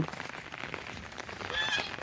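Domestic geese and ducks in a Bangladeshi village give a few honking calls near the end, over a steady noisy background that may include rain.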